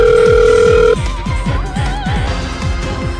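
A telephone rings loudly with a steady electronic tone for about a second, then stops, over constant loud rhythmic background music in a Korean drama scene.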